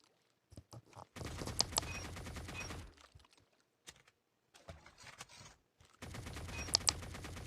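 An AK-47 Pumpkin Head rifle fires in a video game: several rapid automatic bursts, loud and close, with short silent gaps between them.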